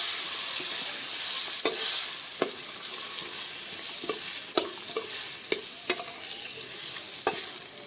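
Chickpeas frying with spices in a pan, a constant sizzle broken by repeated sharp spoon scrapes and taps as they are stirred, close and clear.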